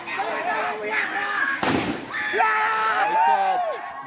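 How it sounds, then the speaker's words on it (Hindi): A single loud firecracker bursts at a football match amid a cheering crowd, one sharp close blast midway through steady crowd noise and shouting voices. "अभी इतना जोर से पटाखा फोड़ दिया यहाँ पर।"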